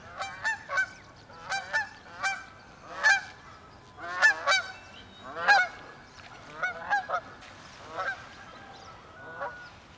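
Geese in flight honk repeatedly in bursts of overlapping calls, fairly close and clear, with brief pauses between groups.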